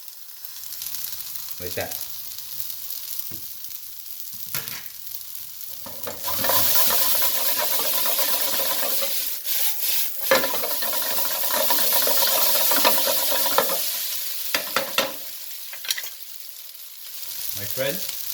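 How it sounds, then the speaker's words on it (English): Roasted sesame oil hits a pan of vegetable stir-fry lo mein noodles, raising a loud, steady sizzle with bursts of stirring and clatter, framed by brief speech before and after. "Last but not least, I always add some sesame oil. There's roasted sesame oil."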